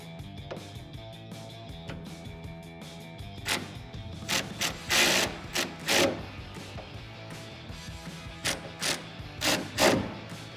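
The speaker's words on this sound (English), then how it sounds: "Now with an 11mm socket, we can tighten down those nuts that go to the rail." Lug nuts being tightened with an 11mm socket on a Jeep Gladiator JT tonneau cover rail: a series of short ratcheting and rubbing bursts, fairly close, clustered in the second half, with no talk.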